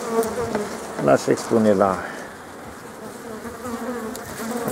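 Dense buzzing of a heavily populated honeybee colony at a wintering hive in mid-March, a steady insect hum running throughout, with someone speaking briefly over it near the start.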